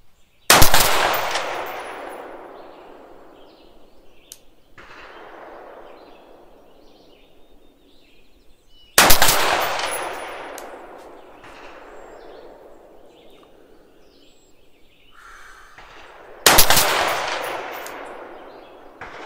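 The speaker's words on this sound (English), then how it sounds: "put 5 rounds at 200 yards" Three sharp, loud rifle shots fired at a target 200 yards away, spaced several seconds apart, each followed by a long ringing echo that slowly fades outdoors.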